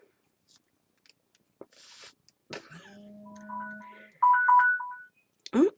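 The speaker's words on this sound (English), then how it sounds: "Oh, and that's my phone." A mobile phone rings indoors with a short, bright electronic melody of stepped tones, first softer and then louder, between scattered handling noises from craft work.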